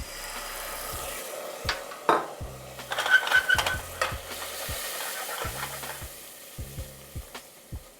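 Bourbon sauce stirred in a pot as it cooks down, a spoon scraping and clanking against the metal over a low sizzle, with irregular knocks and a brief louder burst of stirring, close with no voices.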